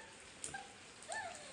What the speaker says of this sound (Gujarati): વરસાદ જોરદાર પડે છે